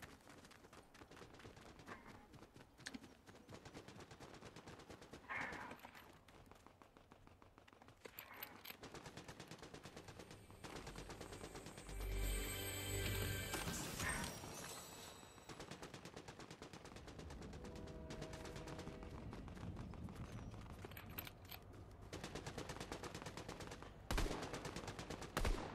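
Rapid gunfire in the video game Fortnite, dense bursts of automatic and single shots crackling continuously over a busy game soundscape, fairly loud and sustained for the whole stretch.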